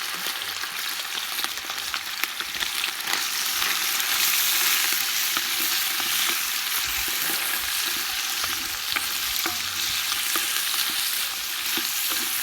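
Bograch stew of meat and salo in a pot being stirred in the Carpathian region, a dense continuous frying sizzle with scattered scrapes and taps of the stirring utensil, steady and close throughout with no talking.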